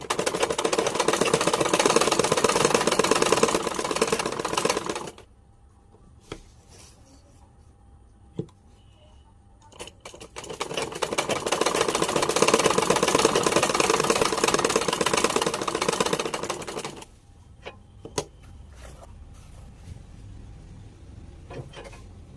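A sewing machine stitching the front of a silk shirt, running in two close, steady bursts of several seconds each, separated by quiet pauses with occasional faint clicks.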